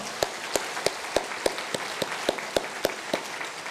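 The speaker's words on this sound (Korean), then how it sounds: "우리 박수로 한번 격려하겠습니다" A church congregation at a Sunday worship service claps for the children in steady, evenly spaced unison beats, about three per second, sharp and fairly close, with no voices over it.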